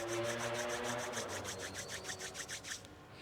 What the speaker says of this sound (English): Gently rub your palms one against each other.